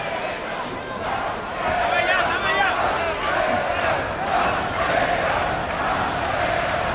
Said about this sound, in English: Crowd is chanting Pantera, Pantera.